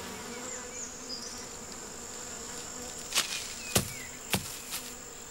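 Bees buzzing around ripe Williams pears in a traditional orchard, a steady close drone with several louder passes as insects fly near, and a few sharp clicks or taps partway through.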